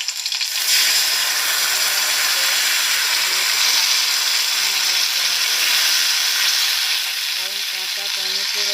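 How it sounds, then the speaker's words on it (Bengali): Tomato paste hits hot oil in a pan for a Bengali paneer dish, setting off a loud, close, continuous sizzle that holds steady throughout, with light stirring near the end and no talking. "যে টমেটোটা আমি পেস্ট করে রেখেছি সেই টমেটোটা আমি ওর মধ্যে ঢেলে দেবো"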